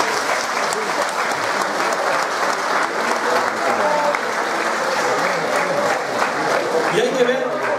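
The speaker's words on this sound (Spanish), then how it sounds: "Un fuerte aplauso para todos." A festival audience honouring elders in San Juan de Puntallana claps loudly and steadily, a dense, sustained wash of applause filling the whole stretch with no pause.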